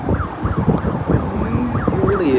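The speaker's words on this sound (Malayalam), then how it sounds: "ഇവിടെ ആംബുലൻസ് ഓടുണ്ട്" A wailing ambulance siren rises and falls repeatedly in a regular rhythm, loud and close, over traffic noise in Kuala Lumpur near the KL Tower.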